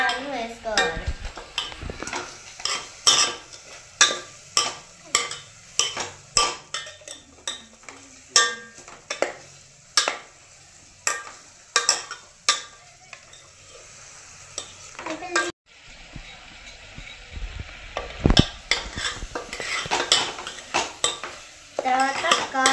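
Green chillies and ginger paste frying in a pan, a close sizzle under repeated sharp spoon-against-pan clinks and scrapes in an irregular stirring rhythm, with a brief pause before stirring resumes.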